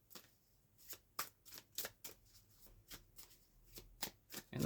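Tarot cards being shuffled by hand in a quiet room, a run of about a dozen crisp riffling snaps and slaps at an uneven rhythm, close and clear with no talk over them.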